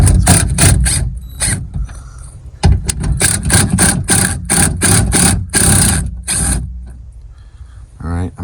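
A ratchet works loose the window regulator bolts on a 2008–2012 Ford Escape, with rapid, close metallic clicking in repeated bursts and short pauses between them.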